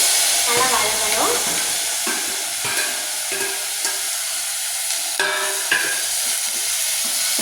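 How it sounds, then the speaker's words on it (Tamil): Tomatoes sauté in a pan for mint chutney, a loud, steady sizzle and hiss broken by repeated scraping stirs from a utensil, with no talking. "தக்காளியும் நல்லா வதங்கணும்."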